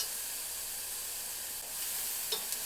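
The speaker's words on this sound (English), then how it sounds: "Now I'm going to add my garlic." Garlic sizzling in a hot pan for a tempeh Thai curry, a steady close hiss that holds evenly, with a couple of small crackles near the end.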